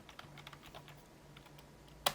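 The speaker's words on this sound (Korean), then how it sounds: "다시 키보드 방향키 아래쪽을 눌러 내려와 주세요." Several light computer keyboard key presses, arrow keys tapped one after another while setting voltages in a motherboard BIOS, soft and evenly spaced, ending in one sharper, louder click.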